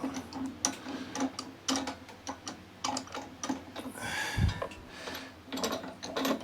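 A socket wrench ratchets on the spark plug of an Atco Balmoral 20SK lawn mower, a run of close, crisp clicks in irregular bursts with small metallic knocks and a brief thump midway.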